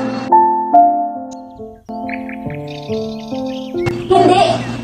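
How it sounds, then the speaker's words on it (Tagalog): Birdsong effect played on stage during a Romeo and Juliet play, brief chirps and tweets over sustained musical tones, with an actor's voice joining at the end. "Ang huli ng mga ibon ay tila isang bangungot sa aking pandinig."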